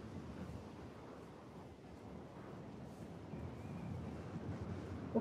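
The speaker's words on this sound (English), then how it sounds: "It's so windy." Steady outdoor wind buffets the microphone as a low, broadband rumble for the whole stretch, fairly even in level and with no voices over it.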